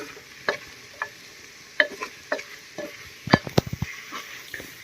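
Masala for a Kashmiri dish frying in a pan, with soft sizzling under scattered scrapes and knocks of a spoon stirring, close and moderately quiet, the stirring growing busier toward the end.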